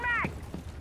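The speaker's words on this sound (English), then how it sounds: "Loading new mag!" A gun magazine is reloaded in a multiplayer shooter game, a short mechanical clack and ratcheting click followed by a second click, close and fairly loud, with a brief voice sound at the start.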